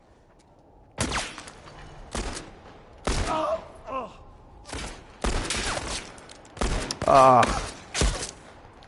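Rapid bursts of gunfire ring out in The Last of Us Part 1, several loud sharp volleys spread across the moment, with a short exclamation from a person mixed in.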